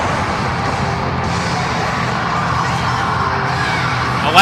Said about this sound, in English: Crowd definitely on the side of Jason Blade